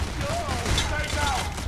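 Dense gunfire from a firefight in the co-op heist shooter Payday: The Heist, a steady wash of rapid shots that stays at an even level for the whole stretch, with faint voices underneath.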